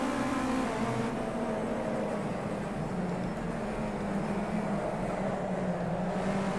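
Race car in Project CARS 2 driving fast around Bathurst, a loud sustained engine drone with steady harmonic tones, continuous for several seconds with no talk.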